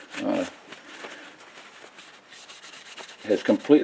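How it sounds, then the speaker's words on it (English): A rag rubs and wipes handgun parts after solvent cleaning, producing soft, close scrubbing strokes with a few stronger rubs at the start and end. "just wipe out things and dry them off"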